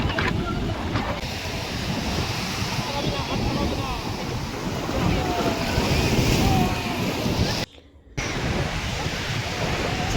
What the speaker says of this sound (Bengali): এই নীলের সঙ্গে যে সাদা ঢেউগুলো